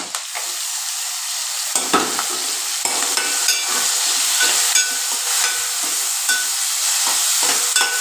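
Dried prawns with gongura leaves fry in a pan with a loud, continuous hiss and sizzle, while a spatula stirs them in brisk repeated scrapes, close up and with no talking.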